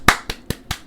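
Podcast hosts clapping in a recording room, four sharp, close hand claps at an even, quick rhythm with short gaps between them.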